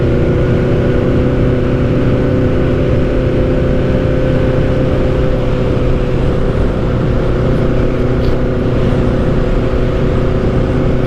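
A Honda Nighthawk motorcycle's engine drones loud and steady while climbing a hill, a continuous labored hum with no talking.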